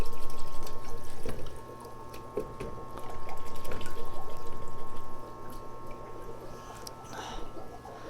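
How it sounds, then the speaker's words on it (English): Water runs and splashes as soil is washed off the roots of an olive tree cutting in a pot, a steady close wash with a faint mechanical hum, rising and falling in surges, with some talking. "I'm going to wash it real good in my pot"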